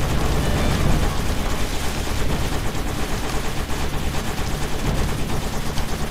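Gunfire from the video game Kick Ass Commandos rattles on without pause, a dense, loud barrage of rapid shots and blasts that fills the whole stretch with no voices over it.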